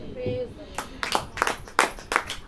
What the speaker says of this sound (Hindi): ताली हो जाइए।